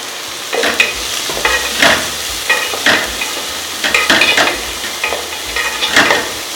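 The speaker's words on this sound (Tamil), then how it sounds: "சும்மா லைட்டாக வறுத்துக்குங்க போதும்." Ginger, garlic, green chilli and onion fry lightly in a pan, a loud close sizzle broken by repeated scraping stirs of a spoon against the pan.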